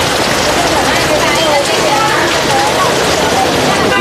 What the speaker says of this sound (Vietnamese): Đây mưa suốt như này suốt từ sáng rồi các bác này